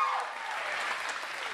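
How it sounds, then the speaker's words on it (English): Wedding guests at a barn reception applaud steadily, a dense wash of clapping that holds evenly throughout the short stretch, with a faint voice near the start. "Let's give her a nice round of applause."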